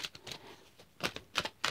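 Several quick, crisp paper-like flicks and taps in short bursts, close by, of tarot cards being shuffled, with brief pauses between.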